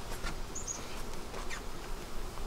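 Honey bees swarm around an opened, full beehive on a hot, humid day, a dense steady buzz with individual bees zipping close by now and then, no talking.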